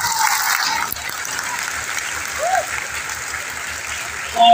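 A seminar audience in a hall claps together, a dense, loud wash of applause that holds steady throughout and swells again at the close, with no voices rising above it.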